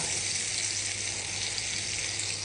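Food sizzles and crackles steadily in a hot pan, a close, continuous hiss with no talking.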